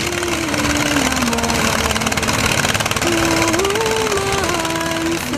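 A locally made dredging boat engine, used by alluvial gold miners on a river in Ghana, chugs loudly and steadily in a rapid, rhythmic putter, its pitch shifting slightly as it revs.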